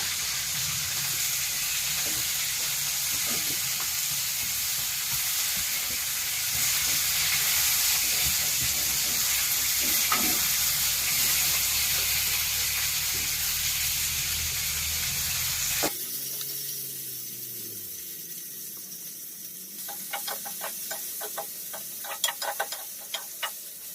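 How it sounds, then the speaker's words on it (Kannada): Cluster beans fry in oil in a pan for a village-style cluster bean bajji. A steady sizzling hiss fills most of the stretch, then drops to a quieter bed with scattered small clicks of stirring, and no voice is heard. "ಎಣ್ಣೆ ಹಾಕಿನ ಎಣ್ಣೆ ಒಳಗೆ ನಾವು ಮಸ್ತಾಗಿ ಫ್ರೈ ಮಾಡ್ಕೋಬೇಕು"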